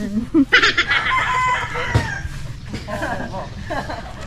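A red rooster crows loudly and close by, a single drawn-out call mixed with other clucking fowl and some voices, in the countryside.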